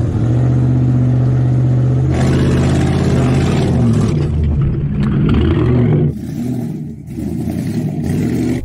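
A Hennessey Mammoth or Hummer H2 accelerates on a short timed course with a hairpin, its loud engine drone rising and shifting, then easing off and picking up again near the end.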